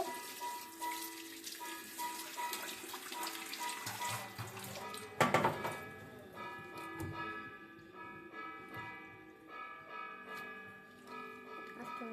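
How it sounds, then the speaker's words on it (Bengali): River fish being washed under running water, a faint steady trickle with occasional louder splashes and clinks in the middle, quiet and distant, with no speech. "এগুলি ধুয়ে কাটবে দেখুন"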